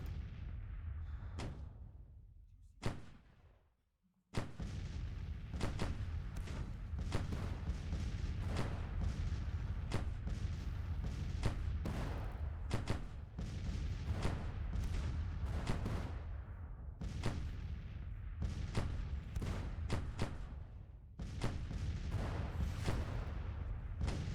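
Civil War–era artillery fire in Grand Tactician: The Civil War, a dense, continuous barrage of booms and gunfire that drops out briefly near the start, then rolls on loudly with no voices.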